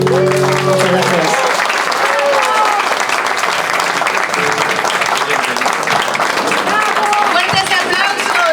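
A loud burst of audience applause fills the room at a tango festival, rising as a sung tango ends and continuing thick and close, mixed with cheers and voices throughout.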